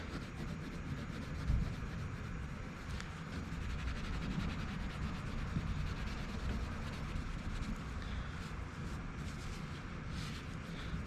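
Chrome polish is rubbed by hand onto the chrome trim of a 1970s Chevelle, giving a continuous close scrubbing and rubbing noise with a steady back-and-forth texture, with no talk.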